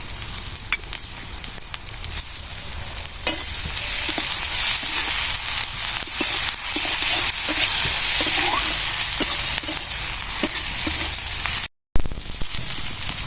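Garlic paste sizzles hard in a hot frying pan, a continuous loud crackling hiss with scattered pops and a short break near the end.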